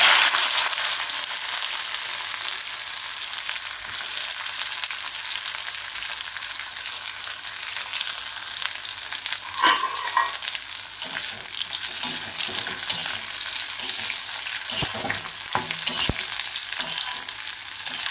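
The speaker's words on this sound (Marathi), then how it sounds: "तेल थोडंसं इकडं तिकडं आजूबाजूला उडतं आता हे बारीक गॅसवरती आपण चांगलं परतून घेणार आहोत" Thin bitter gourd slices fry in oil with cumin seeds over a low flame, a loud dense steady sizzle with spitting crackles and occasional stirring knocks, no voices.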